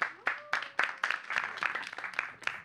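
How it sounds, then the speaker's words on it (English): A classroom audience gives a student a round of applause during a maths masterclass, a brisk scattered clapping of a small group, fairly faint and without talk. "Give him a round of applause."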